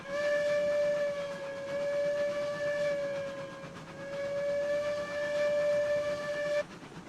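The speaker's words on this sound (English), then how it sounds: "A whistle." A steam locomotive whistle sounds in the train simulation game Railroads Online, one long, loud, tonal blast that swells and dips slightly in the middle before cutting off sharply, over a soft background hiss.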